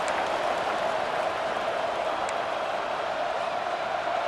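A steady, dense stadium crowd roar from the video game EA Sports College Football 26, a continuous wash of cheering that stays loud and even throughout with no distinct voices standing out.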